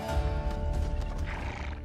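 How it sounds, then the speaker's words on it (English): A ridden horse neighs loudly nearby as it approaches, hooves clip-clopping underneath the whinny. "here comes the horse now"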